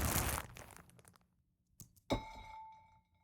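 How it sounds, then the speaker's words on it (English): Plastic bag sample run through convolution reverb in a synth: a loud crinkling burst at the start, then a sharp hit followed by a ringing metallic tone that decays slowly. "you'll hear it even more as the original plastic bag."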